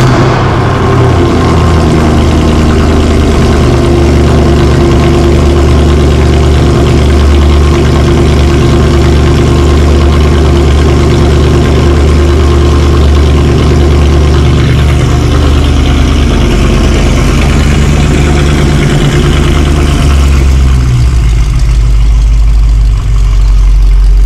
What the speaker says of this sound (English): I'm gonna give you guys a nice sweet cold start with the C63